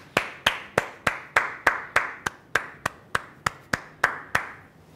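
Steady rhythmic hand clapping at a welcoming ceremony for guardians: about fifteen crisp, close claps in even succession, with no voices.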